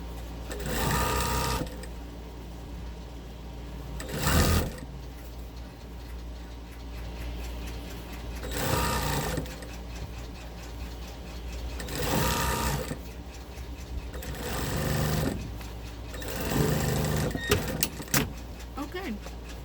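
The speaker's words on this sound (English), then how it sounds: "now we're going to do 1/4 of an inch seam all the way around, catching the linings and the cuff and the pretty side of the stocking" A sewing machine runs a quarter-inch seam around a lined, cuffed Christmas stocking, stitching in loud, whirring bursts of a few seconds each, separated by quieter pauses with faint clicks and handling noise.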